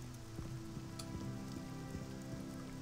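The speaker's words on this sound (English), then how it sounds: "It's now 12 p.m. and it's still raining." Rain in a modded Morrowind video game falls in a faint, steady patter with scattered drips tapping on a surface, continuous and alone throughout.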